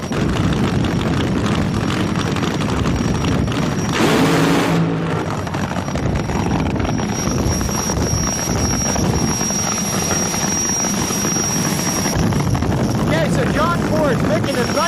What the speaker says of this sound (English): Fired and running is the Jet car.